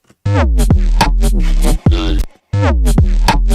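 A synthesizer with one of its two oscillators turned off plays three separate sustained notes with short gaps between them, each a steady buzzy tone rich in harmonics, loud and close.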